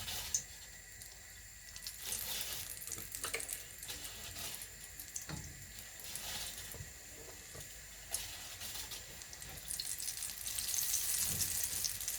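Steady crackling sizzle of koosa (bean fritters) frying in hot oil, continuous and close, with faint clinks and a slightly louder burst near the end; no talking.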